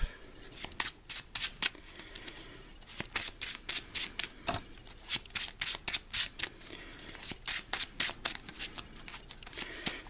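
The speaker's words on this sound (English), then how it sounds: "shuffle it up." Deck of cards for a Marvel Champions card game being shuffled, a rapid series of crisp riffling bursts in an irregular rhythm, close and fairly loud.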